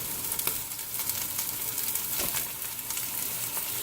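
Sweet and spicy Italian sausages browning in a pan, a steady close sizzle and frying crackle with occasional small pops, running alone without talk.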